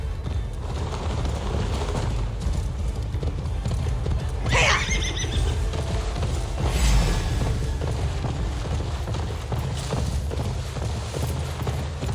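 A horse gallops with steady clip-clopping hooves and gives a clear neigh midway, set in the Viking-era game Assassin's Creed Valhalla, over a continuous low rumbling backdrop.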